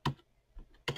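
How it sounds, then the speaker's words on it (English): Keys on a computer keyboard are struck in a few sparse, crisp taps, with a soft click between two louder strokes while a name is typed into 3D printing software. "We could type in whatever name you want."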